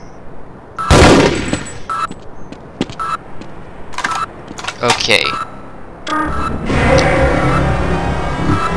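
Automated turrets in Half-Life fire sharp bursts of gunshots in clusters, followed by a denser rattling stretch, loud and close, with a brief spoken word among them.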